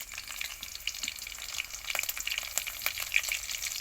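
Green chilies and cumin seeds sizzle and crackle in hot oil, a steady bright frying hiss with scattered sharp pops, close and alone with no voices.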